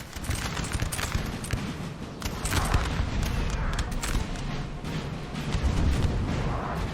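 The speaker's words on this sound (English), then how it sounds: "Artillery can start shooting, replying to that deadly fire." Artillery and massed musket fire from a 4v4 Napoleon: Total War battle: a dense, continuous roll of booming shots and crackling volleys, loud and unbroken, with some distant clatter mixed in.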